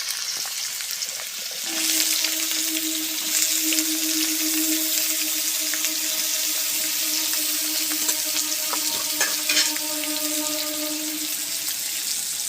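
Potatoes frying in mustard oil in a pan, a steady close sizzle with a faint tonal hum, crackling and a few clinks as the food is stirred.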